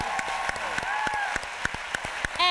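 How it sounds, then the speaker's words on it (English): An audience at a live talk event applauds with scattered, fairly quiet claps that thin out into a few individual hand claps. "Claps."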